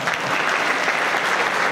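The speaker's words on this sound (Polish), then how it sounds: "Jeszcze raz gorące brawa!" Warm, dense clapping from an audience greeting young Stal Stalowa Wola footballers, a short, even burst of applause at close range.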